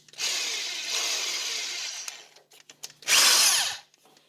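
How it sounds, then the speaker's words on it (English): Electric drill spinning a brushed RC motor: a steady whirring hum for about two seconds, a brief pause with small clicks, then a louder, harsher burst of spinning for under a second. "I'm going to put it up in my drill."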